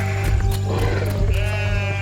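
A herded flock of sheep bleats in short, wavering cries that repeat several times over a steady droning background, fairly loud and close, with no speech.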